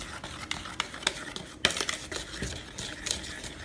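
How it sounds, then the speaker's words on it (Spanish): Dry pancake ingredients with salt, baking powder and baking soda are mixed in a bowl for blueberry pancakes, giving close scraping and stirring sounds with a few light taps against the bowl. "el baking powder y el baking soda, y esto lo vamos a ir mezclando."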